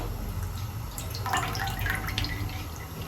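Water drips and trickles briefly from a stale roti dipped in water, a few light splashes and droplets falling, quiet and close with a faint background hum.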